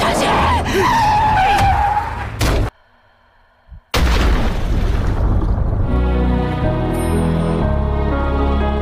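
A car skids and strikes a person in a dramatic film scene, heard as a loud screeching skid and crashing impact, then a sudden near-silent gap, followed by a heavy thud and a swelling dramatic musical sting.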